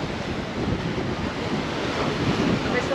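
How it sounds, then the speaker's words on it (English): Southerly wind blowing steadily by the Mediterranean sea near Frejus, a broad continuous rush with surf washing underneath, loud and unbroken throughout. "that little bit of southerly wind that's coming up"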